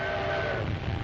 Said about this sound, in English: The train rattles across desolate country the Italians will have to fight across